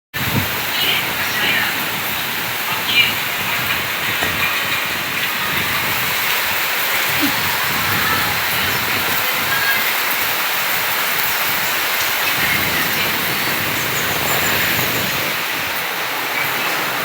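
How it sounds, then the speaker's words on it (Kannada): Heavy monsoon rain falls steadily on a village house, a loud, continuous hiss of downpour that barely changes in intensity. "ಮಳೆ ಒಂದು ಸ್ವಲ್ಪ ಜಾಸ್ತಿ ಓಟ್ ಬರಕತ್ತ ನೋಡ್ರಿ"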